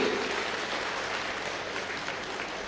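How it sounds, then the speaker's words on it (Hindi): Audience at a Hindi humorous poetry gathering clapping for the poet, a brief, fairly soft wash of many hands that stays steady throughout. "तालियां कमजोर हैं आपकी"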